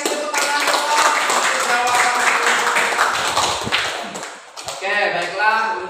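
A classroom of students applauds together on cue from their teacher, a dense, sustained burst of clapping that fills most of the moment before tapering off as voices begin to rise.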